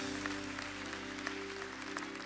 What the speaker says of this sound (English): let's give Jesus a round of applause for the last 15 years